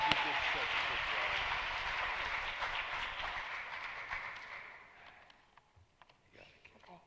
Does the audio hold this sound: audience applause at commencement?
yes